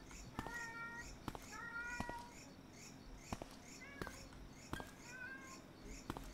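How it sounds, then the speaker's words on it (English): Angry cat meowing in a video game, several drawn-out, wavering yowls spaced across the clip over a low ambient game background, with sharp clicks and thumps between calls. "The cat sounds pissed."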